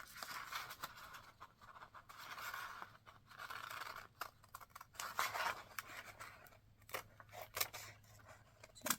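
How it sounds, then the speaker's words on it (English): Scissors snip through paper to cut out a children's book cover, a close series of crisp, uneven cuts and rustles with brief pauses between strokes. "So cut out the cover that you want."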